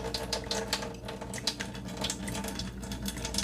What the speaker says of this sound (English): I'm going to go ahead and pump all this water out, the one that is inside of the filter